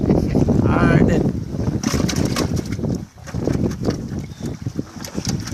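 Wind gusts across a small fishing boat out catching croakers and lane snappers, a steady, rough roar buffeting the microphone up close and rising and falling throughout.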